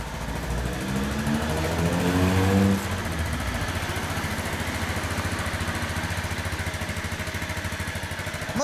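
A Kawasaki KR500 square-four road-racing motorcycle engine starts with a rising rev, then settles into a loud, steady, rapid idle chug that continues without pause.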